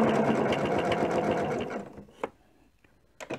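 A sewing machine runs a quick, even stitch through joined quilted pieces, ending with a lock stitch. The rapid rhythmic chatter lasts a couple of seconds, then stops, followed by a few sharp clicks and handling sounds.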